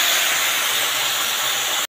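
Potatoes and onions frying in a pan give off a loud, steady hiss that holds unbroken before cutting off abruptly at the end.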